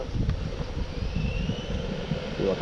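A brushed 1/12-scale Laegendary Tornado RC truck motor runs in high speed mode outdoors at night in wind, a thin steady whine with a rising tone over rumbling wind noise.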